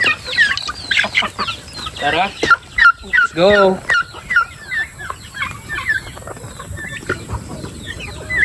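A flock of chickens and turkeys clucks and squawks close by in a busy, overlapping chatter, with a short spoken call among them.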